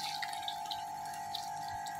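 Leftover chickpea cooking water poured into a pot of Lahori chole, heard as a steady, faint trickle of liquid without talking.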